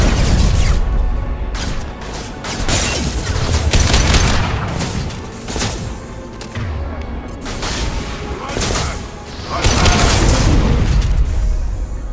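A concussive shot fired in the Mass Effect 2 video game, with heavy booms and weapon fire bursting repeatedly over a loud, dense combat din, and voices speaking at times.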